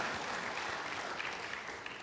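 A church congregation gives a brief burst of enthusiastic clapping in praise during a worship service, a short, dense, even wash of applause.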